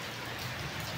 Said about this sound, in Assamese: বৰষুণ পৰিয়ে আছে, নন ষ্টপ ৰাতিৰ পৰা বৰষুণ হৈ আছে।